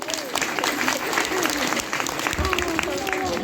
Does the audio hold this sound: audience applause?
yes